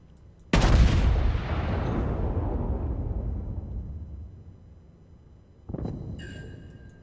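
USS Texas battleship main guns firing a salvo in World of Warships: a sudden heavy boom with a long rumbling decay, then a second, smaller blast a few seconds later, with a faint mechanical whine trailing after.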